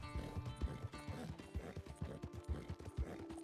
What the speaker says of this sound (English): Why is my horsey so upset?